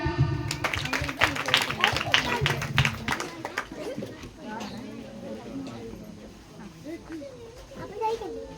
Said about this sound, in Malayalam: ഈ പിള്ളേർക്ക് വേണ്ടി നല്ലൊരു ക്ലാപ്പ്.